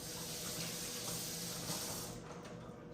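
Running water from a tap splashes steadily over a metal cocktail strainer, a close rinsing sound that thins out toward the end.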